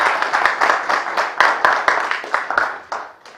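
A conference audience claps steadily at close range, a dense, even patter of many hands that tapers off toward the end.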